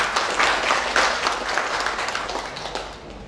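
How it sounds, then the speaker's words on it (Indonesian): Steady applause from an audience at a university send-off ceremony for community service students, a dense wash of many hands clapping together that gradually fades over a few seconds with no talk. "tepuk tangan untuk kita semua"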